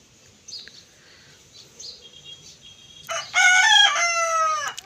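A rooster in a village yard crows loudly once, a full harmonic call rising then falling near the end, after a stretch of quiet ambience with faint bird chirps.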